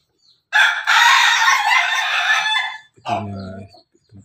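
A Pelung rooster crows loudly and close by at feeding time, with a long strained crow followed by a shorter, lower call.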